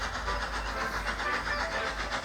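A steam engine train sets off with a continuous loud hiss and rhythmic chuffing, close and without voices.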